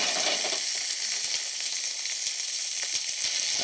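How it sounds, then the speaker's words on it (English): Food sizzles steadily in olive oil in a non-stick pan, a continuous bright frying hiss with soft scraping and clicks as it is stirred about. "Now I'm stirring this about."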